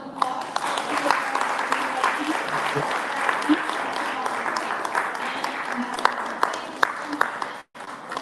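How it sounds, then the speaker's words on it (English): Audience at a Filipino Canadian community forum gives a round of applause, steady clapping from many hands throughout, with a brief drop near the end. "Let's give them another round of applause."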